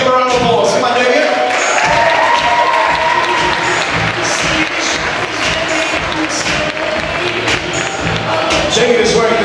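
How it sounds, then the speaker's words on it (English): At a fashion show in a shopping centre, a crowd claps and cheers for a model, the applause continuing steadily beneath a presenter talking over a PA and background music. "Give a round of applause."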